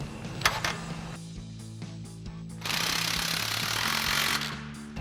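An impact wrench with a 15 mm socket snugs down exhaust clamps on a Dodge Challenger cat-back system, firing in short bursts and then one longer rattling hammering run, close and loud in a quiet garage.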